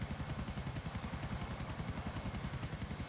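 A GTA video game helicopter makes a steady, rapid rotor chop with a constant engine drone, heard continuously and fairly close throughout, with no talking.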